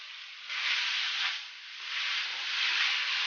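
Radish hits hot oil with minced garlic in a heated wok for stir-frying. It gives a steady, loud hiss and sizzle that swells and eases in waves, with no talking.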